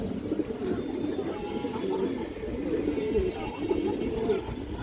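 High-flyer and racing pigeons on a pigeon farm coo steadily in low, throaty, overlapping calls, with a continuous murmur of birds close by and faint background noise.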